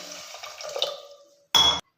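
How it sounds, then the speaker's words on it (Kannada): More water is poured onto mixed legume seeds in a pressure cooker, a soft trickle that fades out, then a brief loud splash near the end. "ಇನ್ನು ಸ್ವಲ್ಪ ನೀರು ಹಾಕ್ಕೊಳ್ತೀನಿ."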